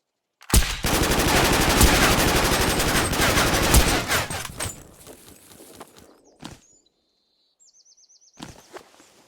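Automatic gunfire in the Zero Sievert video game: a loud, rapid burst of shots lasting a few seconds, then a handful of scattered single shots and faint clatter before fading to near quiet.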